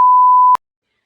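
A single steady censor bleep, a pure tone held for about half a second, masking a spoken name in a podcast conversation, then silence.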